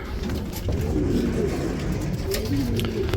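Pigeons in an aviary coo in low, overlapping murmurs, several birds audible at once under steady background noise, with no talking.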